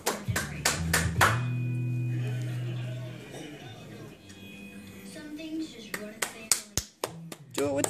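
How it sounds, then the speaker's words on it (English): A baby's hand claps come as a burst of sharp, close taps at the start and again near the end. An adult voice and a held vocal tone fill the middle. "Did you just clap your hands for the first time"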